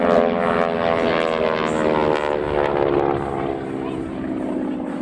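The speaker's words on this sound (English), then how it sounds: "horsepower Pratt & Whitney R1340 radial engine with a supercharger." An AT-6 Texan's supercharged Pratt & Whitney R1340 radial engine drones loudly overhead at an airshow, a rough, buzzing roar that fades slightly as it passes.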